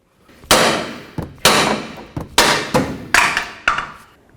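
Hammer blows driving the ball joint out of a 2007-12 Dodge Caliber front lower control arm: about seven sharp, loud metal strikes at close range, landing in an uneven rhythm with no talk.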